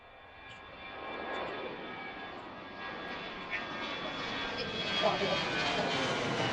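A jet airliner takes off from Washington Reagan National Airport, its engine roar building steadily from moderate to louder with a rising whine, heard at a distance.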